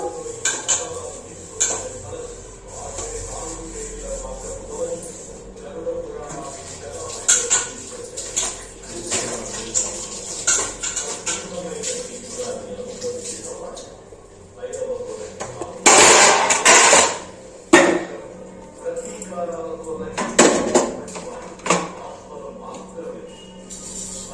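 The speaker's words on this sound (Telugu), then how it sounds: "ఆ చేపల పులుసు మరిగేలోపు నేనైతే గిన్నెలన్నీ దోనేస్తానండి" Dishes, pots and pans clatter and clink while being washed, with intermittent louder knocks, steady background noise and occasional bird chirps.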